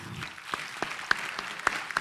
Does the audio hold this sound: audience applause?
yes